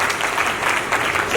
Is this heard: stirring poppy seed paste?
no